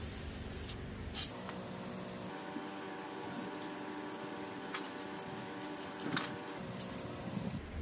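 An aerosol spray paint can lays a light coat over plastic-dipped Nissan 370Z wheels. The hiss is soft, close and steady, with faint clicks and taps scattered through it.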